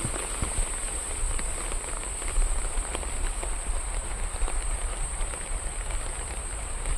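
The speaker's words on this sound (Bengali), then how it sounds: "দেখুন প্রচণ্ড জোরে বৃষ্টি হচ্ছে" Heavy rain pours down steadily onto flooded streets, a dense unbroken hiss with scattered sharper drop impacts throughout, and a high constant whine sits above it.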